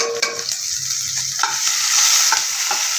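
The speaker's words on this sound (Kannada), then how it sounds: "ಅದಲ್ಲಿಗೆ ಬೆಳ್ಳುಳ್ಳಿ 2 ಹಸಿಮೆಣಸಿನ್ಕಾಯಿ ಇದನ್ನ ಸ್ವಲ್ಪ ರೋಸ್ಟ್ ಮಾಡ್ಕೊಳ್ಳೋಣ" Garlic and two green chillies roast in hot oil with cumin and asafoetida, making a close, bright, continuous sizzle with light stirring scrapes and no talking.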